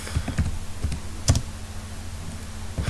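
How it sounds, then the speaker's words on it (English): Scattered keystrokes on a computer keyboard while writing HTML, a handful of close clicks at an uneven pace over faint room hiss. "I can type P and I'll type enter"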